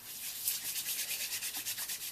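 Lotion is rubbed into dry skin on a pair of hands, giving a soft, rhythmic close-up swishing and rasping that repeats steadily for a couple of seconds, quiet and alone.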